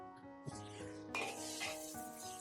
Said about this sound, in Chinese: 然后继续给它煸炒，把香味煸炒出来